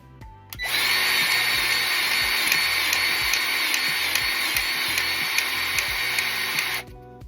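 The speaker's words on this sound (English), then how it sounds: "Got my grease gun ready." A grease gun pumps Lucas Oil marine grease into a 2019 Ranger wheel bearing, producing a loud, steady motorized whir close by that starts abruptly, holds for about six seconds, then cuts off.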